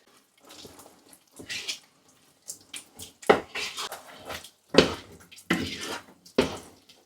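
Tinned chickpeas tumble into a pan of simmering tomatoes and get stirred through, wet splashes and scraping bursts coming in irregular clusters, close and moderately loud.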